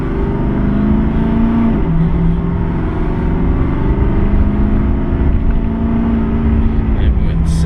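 A 2016 Nissan Titan XD SL 4x4 pickup accelerates hard with the pedal floored, its engine holding a loud, steady low drone that climbs in pitch before a brief shift and rise again, close and continuous throughout.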